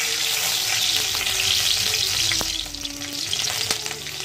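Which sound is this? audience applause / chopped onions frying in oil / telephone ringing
chopped onions frying in oil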